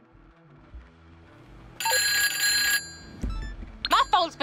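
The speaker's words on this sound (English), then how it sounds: "My phone's been blowing up with news of this guy." A telephone rings once in a bright, sustained burst lasting about a second, followed by a short tone and then a few quick higher chirps, over a quiet background.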